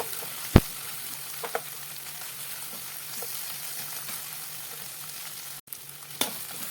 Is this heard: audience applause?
no